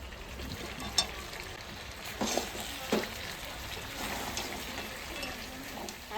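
Meat and potatoes frying in a pan, a steady soft sizzle with occasional stirring scrapes and clinks near the mic.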